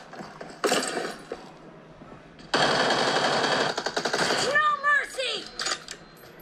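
Rapid automatic gunfire from PUBG played on an iPad Pro, with a short burst followed by a longer sustained volley and then scattered mechanical clicks and pings, all loud and close.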